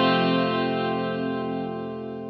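A Rickenbacker 370-12 twelve-string electric guitar is run through a Vox amp emulation in Guitar Rig, one rich shimmering strummed chord that sustains steadily and fades only slightly, alone and close.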